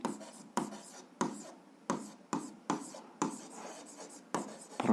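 Pen strokes on paper while a seventh-grade algebra graph is worked out, a series of regular scratchy marks about every half second, close and quiet with no talking.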